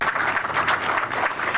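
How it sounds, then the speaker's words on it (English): Clapping from the audience at an installation and assumption of office ceremony, a short burst of brisk, fairly loud applause from a small crowd close by. "We need to clap for them"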